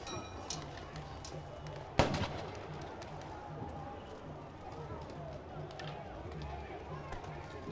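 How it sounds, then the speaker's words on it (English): A single sharp firework blast at a street protest where fireworks are thrown at police, a loud crack with a brief echoing tail above a constant crowd murmur and a low rumble. "Protesters threw fireworks at police officers."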